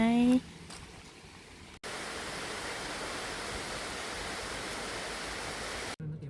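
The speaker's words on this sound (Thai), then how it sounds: "เดินเข้ามาตอนนี้ได้ยินเสียงน้ำตกละ" A steady, rushing roar of falling water from a waterfall in cool weather at Nam Nao, Thailand, fills the scene after a brief quieter opening, constant and close without pause.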